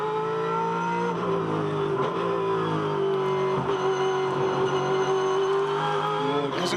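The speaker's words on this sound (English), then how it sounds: "You could just hear the amount of throttle that he could get on the car and the way he's warming it up" A 2010 Ford touring car engine on a qualifying lap at Bathurst, a loud steady howl that rises and falls with throttle changes, close and continuous, with no talk over it.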